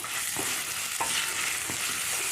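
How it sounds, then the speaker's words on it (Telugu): Green chillies fry in oil with asafoetida for a gongura pickle, giving a dense, even sizzle with a few soft stirring taps. "అప్పుడు ఈ పచ్చిమిరపకాయలు వేసేసి ఒకసారి వేయించాలి"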